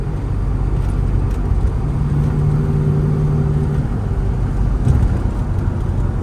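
A 1972 Plymouth Roadrunner with a Mopar 446 engine runs with a deep, steady, loud rumble, its pitch rising slightly during a held rev, close by and continuous with no talking.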